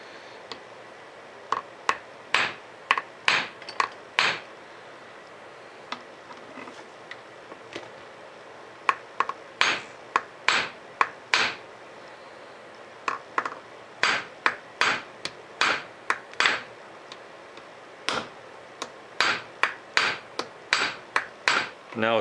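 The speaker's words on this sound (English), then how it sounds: "That's the pin I'm going to peen over." A hammer peens over a chain pin held in a vise while working on a Polaris Scrambler 400: sharp metallic strikes come in irregular bursts, some rapid clusters and some single blows, close and loud over a quiet room.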